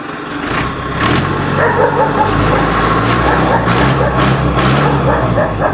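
A farm tractor for sale in a Punjabi village runs loud and close, its engine held at a steady high pitch with a few brief surges, and it continues without a break.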